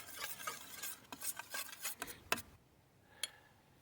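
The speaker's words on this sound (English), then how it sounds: "just stir that right into the mixture" A spoon stirs cornstarch, cinnamon and nutmeg into a peach mixture, making quiet, close scraping and tapping strokes in an irregular rhythm that fade to near silence with one last click.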